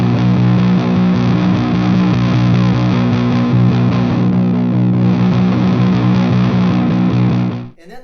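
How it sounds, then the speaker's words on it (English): Death By Audio Fuzz War fuzz pedal played on electric guitar, a thick, saturated fuzzy distortion sustaining loudly and steadily for nearly eight seconds before cutting off abruptly at the end. "it's still gonna be a very fuzzy distortion, but you actually get a little more gain than you do back here"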